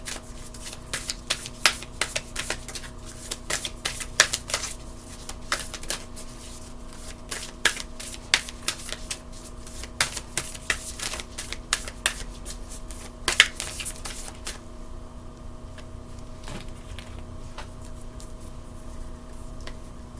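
A deck of oracle cards being shuffled by hand, with repeated crisp riffles and flutters in an irregular rhythm, close and fairly loud, then quieter handling near the end. No one speaks.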